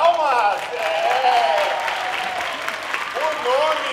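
Dense applause from an audience at a dance performance celebrating the Modern Art Week, held at a modern art museum. The clapping is steady throughout while voices cheer and call out over it.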